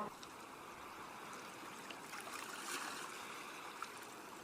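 Sea waves wash in a continuous, soft, even hiss, faint and steady as a calm background bed, with a slight swell in the middle and no voices.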